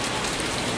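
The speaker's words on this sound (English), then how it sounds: "It's raining, guys, so we stop here." Rain falls at night in Boracay, a brief, steady dense hiss without talk.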